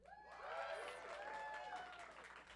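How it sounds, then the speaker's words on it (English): An audience at a Bushwick Book Club Seattle mainstage show applauds and cheers for a performer, a broad, sustained wash of clapping and crowd noise heard from a distance, fairly faint, without speech over it. "So let's give it up for Jeff, the executive director"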